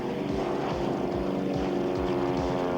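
Propeller-driven aerobatic airplane climbing at a steep angle, its engine giving a loud, steady droning roar with a pulsing beat and no voices.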